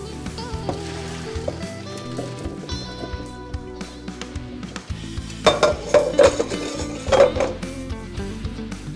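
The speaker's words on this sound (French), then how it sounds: "Les linguini sont cuits, donc on va les mettre à égoutter." Cooked linguini drained from a pot while making linguini with prawns: metallic clanks and clinks of the pot and utensils over a running background, with several sharper knocks near the end.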